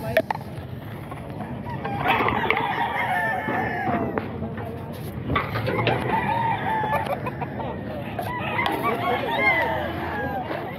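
Roosters crowing and chickens clucking at a chicken market in Bocaue, Bulacan, several long crows overlapping with busy background chatter, loud and close throughout.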